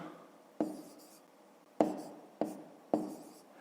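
Numbers are written down by hand on paper in a maths lesson, with four distinct close taps and scratches of the pen spaced irregularly against a quiet background.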